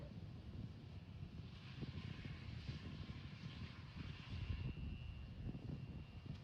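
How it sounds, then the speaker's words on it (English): A propeller airplane drones steadily overhead at a SpaceX Starship launch site, a continuous rumbling engine hum with wind noise running the whole time, moderately loud and unbroken. "Stupid plane."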